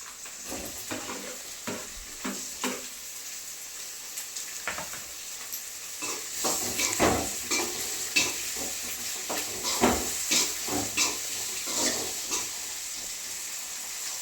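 Goat tripe fries in a pan with tomatoes going in, a steady sizzle under repeated scraping stirs and clinks of a spoon against the metal, growing busier and louder in the second half with no talking.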